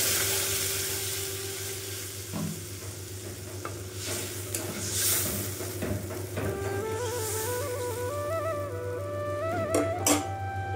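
A chilli and turmeric mixture in a pan as water is poured in, with steady loud sizzling and frying hiss under occasional stirring clatter, close and continuous without speech.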